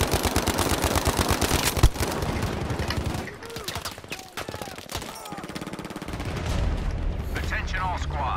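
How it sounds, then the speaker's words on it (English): An anti-aircraft gun pounds out rapid bursts of heavy fire in the World War II shooter Battlefield V, loud and close, with booming impacts and other battle noise, then pausing before more fire; voices are mixed in. "someone's on an AA gun"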